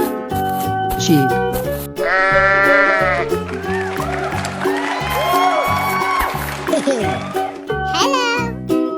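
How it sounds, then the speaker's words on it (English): Cartoonish sheep bleating from a 3D animal video game, several loud wavering bleats repeated over a bouncy game soundtrack with a childlike voice mixed in. "Sheep."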